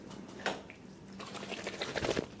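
A water-filled bag squeezed and handled close up, soft sloshing and crinkly liquid squishes building in a gentle irregular rhythm, quiet and intimate, with no talking.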